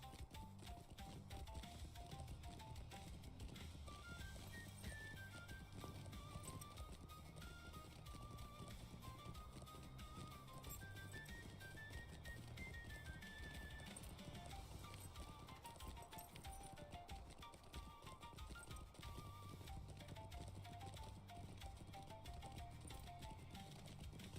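Steady clip-clop of horse hooves in the game LOTRO runs continuously over game music with a repeating melody, rhythmic and even throughout.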